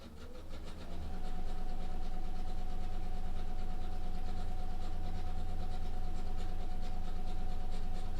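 A sewing machine runs a long straight stitch along the edge of a cloth face mask, starting up after a moment into a steady, close, even mechanical whir that continues without pause.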